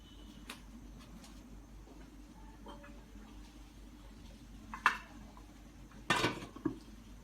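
A metal lid settles onto a pot of hill chicken curry with new potatoes cooking in mustard oil. A few faint taps lead into a short, close clatter of metal on metal, then a final small clink.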